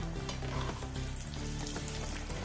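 Slices of bread frying in hot oil give a steady, dense sizzle with crackling pops. It runs close and continuous, and no one speaks over it.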